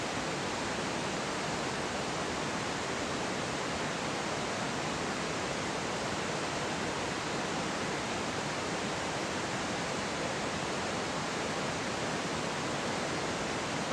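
Water pours steadily out of a hot well discharge tool during a temperature and flow test, a dense, unbroken rushing hiss that stays constant and loud, with no voices over it.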